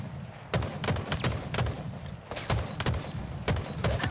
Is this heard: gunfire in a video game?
yes